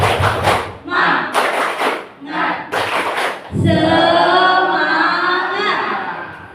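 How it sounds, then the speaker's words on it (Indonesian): A group performs rhythmic spirit clapping in unison during a class session, a few loud clustered bursts of claps in a steady beat, followed by a sustained chorus of voices shouting together. "Tepuk semangat"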